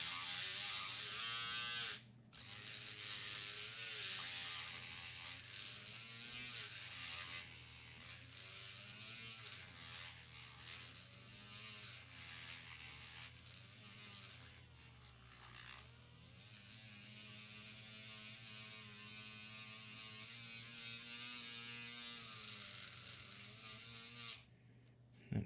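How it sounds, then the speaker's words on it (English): Small handheld electric mixer whirring inside a bottle of DIY e-liquid, a continuous buzzing hum with wavering pitch as it blends, close and fairly quiet, with a short break near the start and another near the end. "grab our mixer, pop it in the bottle, give it a good blend"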